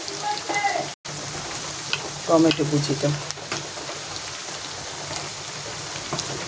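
Food sizzles and crackles steadily in a frying pan throughout, with a short louder burst of spitting and stirring midway, while a voice talks over the cooking.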